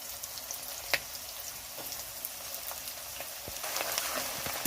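Chopped onion drops into a pan of already reddened fried peanuts and sizzles in a steady, fairly quiet crackle, with a few sharper pops and clicks and no talking.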